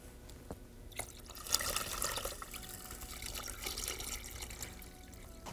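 Water poured into an ikebana arrangement of anthuriums, orchids and monstera leaves, a soft continuous trickle and splash that swells after a quiet start and carries on steadily, close by.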